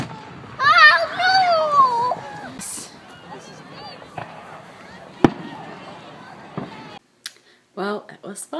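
Fourth of July fireworks show at Sherando Park, with sharp booming bangs at irregular intervals amid crowd noise while children and adults talk and shout nearby.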